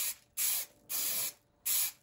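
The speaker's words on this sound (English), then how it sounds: "Give everything a coat of plastic primer." Plastic primer sprayed from an aerosol can onto car headliner trim: three distinct hissing bursts, each roughly half a second long, separated by brief pauses, close and clear with no voices.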